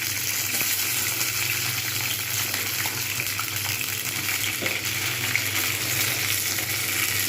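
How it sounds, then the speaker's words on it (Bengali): Flat beans frying in hot white oil in a wok, a steady loud sizzle with crackling bursts that continues without pause and has no talk over it. "এতে আমি কিন্তু সমস্ত শিমগুলো দিয়ে দেবো"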